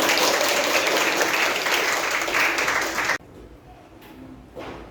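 A class of students breaks into loud, dense applause in a classroom, sustained for about three seconds before cutting off abruptly, leaving quiet room sound with faint stray noises afterward.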